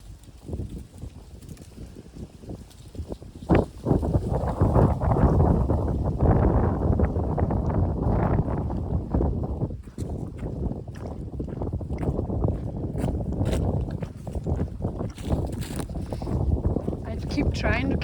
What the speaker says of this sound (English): I keep trying to capture the wind, but it's playing with me.